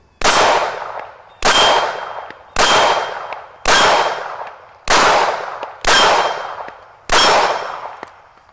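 Seven sharp, loud pistol shots ring out from a Taurus Spectrum .380 fired at targets, spaced roughly a second apart in a steady rhythm, each a hard crack with a brief ringing tail.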